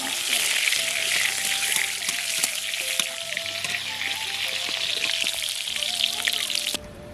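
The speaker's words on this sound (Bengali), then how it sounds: "নাড়াচাড়া করে ভেজে নেব।" Pointed gourd pieces stirred and fried in oil in a wok, a loud, close, continuous sizzle with scraping clinks from stirring, a voice talking over it before the sound cuts off near the end.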